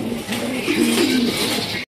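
Pigeons at a pigeon farm coo softly and steadily, low murmuring calls with a gentle wavering rhythm running through nearly two seconds before cutting off abruptly.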